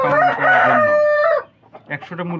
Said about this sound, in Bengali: এই ছাদের উপরে 75টা মুরগি ও বাচ্চা কিছু আছে